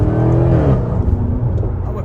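A Jaguar car's engine revs and drones steadily close by, loud and continuous, with people talking over it.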